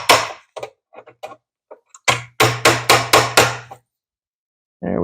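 A hammer strikes a metal bar while a motorcycle gas tank is being mounted. A few light scattered taps lead into a run of six loud, evenly spaced blows, close and crisp, followed by a pause and another hit.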